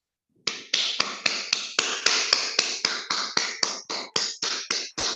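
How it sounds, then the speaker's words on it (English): Rhythmic, evenly spaced hand claps from an audience at a Toastmasters club meeting, about three crisp claps per second, sustained and fairly loud with no voices over them. "can we give them a resounding round of applause?"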